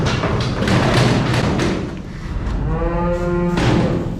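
Euro, a twitchy bull, shifts about inside a livestock trailer, giving several heavy, loud thuds and thumps against the trailer walls, close by, with a short lowing moo near the end.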